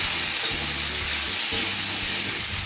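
Pumpkin, potato and tomato frying with dry red chilli in a pan, stirred continuously: a dense, close sizzle and hiss with a low rumbling undertone and faint scraping, no voices.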